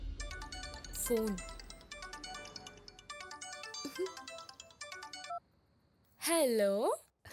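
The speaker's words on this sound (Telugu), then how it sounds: "ఫోన్." A phone plays a melodic ringtone, repeating tonal notes over several seconds alongside voices. A pause follows, then a louder warbling burst closes it out.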